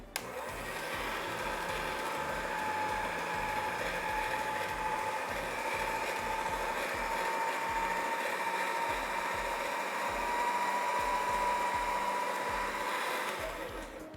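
Motorized pasta roller running steadily while rolling out a tacky sheet dusted with cornstarch and powdered sugar for a carved ghost-shaped brownie, a constant close whirring drone with a faint rising whine, unbroken for the whole stretch.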